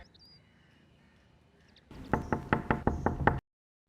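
Knocking on a door, about eight firm knocks in a quick, even series after a stretch of faint room hush, then abrupt silence.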